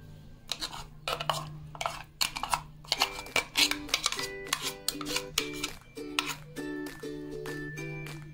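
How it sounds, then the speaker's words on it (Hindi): Homemade onion tomato chutney being scraped out of a blender jar into a bowl, a run of sharp metallic clinks and scrapes in irregular bursts, close and moderately loud against a faint hum, no talk. "अब हम इसे एक बोल में ट्रांसफ़र कर लेते हैं"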